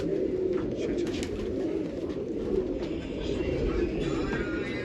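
Soft, repeated cooing of a pigeon close by, low and throaty, continuing over a faint background hum, at a pigeon loft on a dairy farm in Nashik, Maharashtra.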